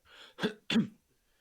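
A couple of sharp, breathy bursts in quick succession, a close sneeze with a short catch of breath before it, in an otherwise quiet room.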